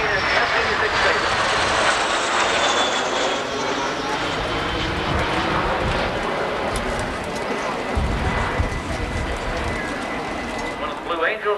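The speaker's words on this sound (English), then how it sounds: "There they are. MiG-15 and F-86 Sabre." Jet roar from a MiG-15 and an F-86 Sabre flying past at a 1988 Confederate Air Force airshow in Harlingen, a sustained loud rush with a faint falling whine, steady throughout and swelling slightly near the end.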